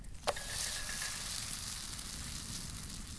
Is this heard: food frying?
yes